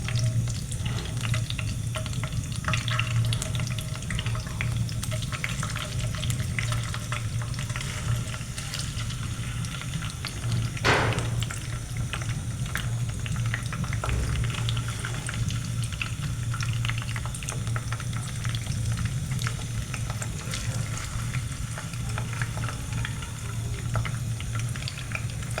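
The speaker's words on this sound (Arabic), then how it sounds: "وبعد كده هنبتدي ننزل البطاطس واحدة واحدة عشان ما تلزقش مننا" Potato slices for homemade chips frying in about half a cup of hot oil, a steady hiss and crackle of bubbling oil that continues evenly throughout, close and fairly loud.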